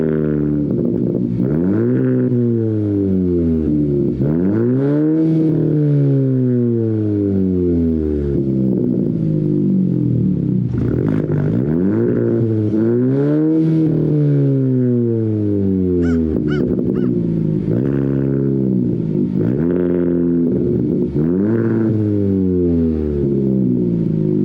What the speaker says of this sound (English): Let me give it a couple of revs.